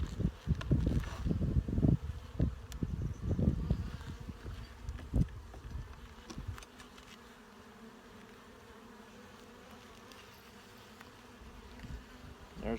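Honey bees buzz steadily during a hive inspection, a continuous insect drone close by, with rustling and knocks from handling the frames that are busiest early on and then settle.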